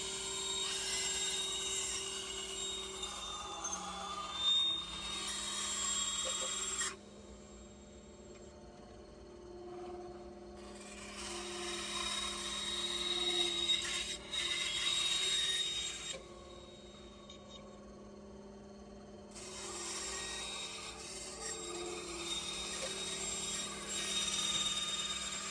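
A bandsaw with an eighth-inch blade cuts the outline of a holster. The saw whines steadily and rises in intensity in long cutting passes, broken by quieter gaps, and no one speaks.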